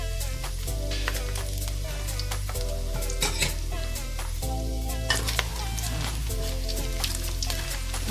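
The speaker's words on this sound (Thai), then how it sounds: "เราทอดลูกชิ้นปลากันเลยนะจ๊ะ" Fish balls made from fish and meat with little flour fry in a hot pan, giving a steady sizzle under a harmonic hum, with stirring scrapes and pan clatter throughout.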